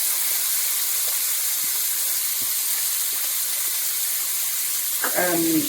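Crab meat sizzles in a hot pan of egg and prawns for an omelette, a steady bright hiss holding throughout with faint ticks and a brief clatter near the end.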